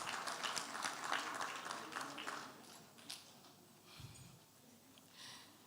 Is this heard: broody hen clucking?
no